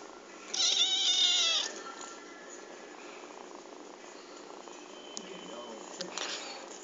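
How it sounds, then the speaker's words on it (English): A kitten gives a drawn-out, hoarse, low meow that sounds old for its age, loud and close, followed by quieter purring, soft room noise and a person speaking softly. "for a kitten, you have a really old lady meow"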